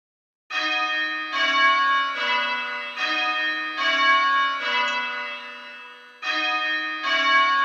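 Three church bells ring slowly in a steady repeating round, each stroke clear and ringing on into the next, with a short pause before the sequence resumes near the end.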